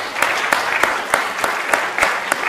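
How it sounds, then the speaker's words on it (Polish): An audience applauds a speaker at the close of a lecture, a steady wash of hand claps with sharper individual claps standing out, sustained and fairly close throughout. "nagrodzić ją jeszcze raz oklaskami"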